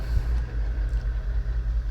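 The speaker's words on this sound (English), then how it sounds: "Why is there a truck now?" A truck rumbles past, low heavy engine drone steady and fairly loud throughout the short moment, with no talking.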